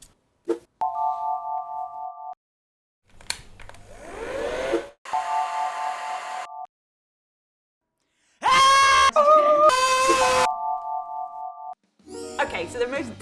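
A household hair dryer blows in loud broadband bursts, interleaved with electronic chime tones, sharp noisy hits and gaps of silence.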